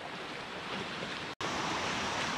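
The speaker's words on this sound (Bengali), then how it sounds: "বৃষ্টি হওয়ার জন্য মনে হয় স্রোতটা বেড়ে গেছে।" Fast stream current rushes steadily near Napittachora waterfall in Sitakunda after rain, a loud, broad roar of water with a brief dropout partway through.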